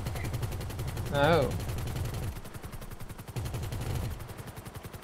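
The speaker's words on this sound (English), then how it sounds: "Of course, that's why I'm shooting them." Video-game gunfire from GTA V rattles in rapid bursts, with steady repeated shots running through the whole stretch while a person speaks over the first part and a short exclamation breaks in.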